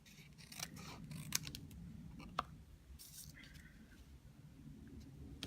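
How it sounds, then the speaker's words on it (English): Scissors trimming paper while tidying a stamped brayer-inked card, a few soft snips and rustles with two sharp clicks, fairly quiet and close with no talk. "Take a bit off. Don't want to cut my mountain range off."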